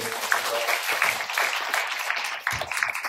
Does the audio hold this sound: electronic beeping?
no